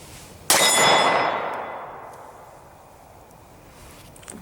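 A Tara TM-9 pistol fires a single loud, sharp shot at close range, its bright report ringing and slowly decaying into quiet.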